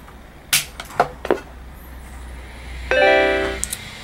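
Macintosh SE/30 fitted with a Mac ROM-inator II ROM switched on: a few sharp clicks and thumps of the power switch and drive, then a short bright tonal startup chime over low fan hum.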